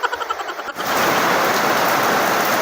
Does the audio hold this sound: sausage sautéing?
no